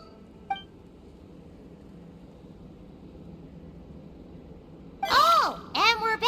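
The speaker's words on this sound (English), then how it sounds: "Oh, and we're back to beep beep again?" Electronic machine beeping in the Genshin Impact Natlan Archon Quest: one tiny blip early on, then a burst of bright, warbling beeps toward the end over a low, steady background hum.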